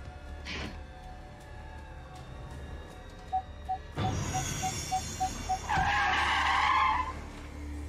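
A car skids with squealing tires after a faint ticking, the screech rising loud and harsh before fading, heard as part of a TV drama scene with low background rumble.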